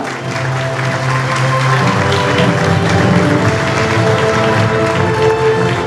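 An audience at a cinema academy final and certificate ceremony applauds in a dense, sustained wash of clapping that holds at an even loudness from start to finish, with no speech over it.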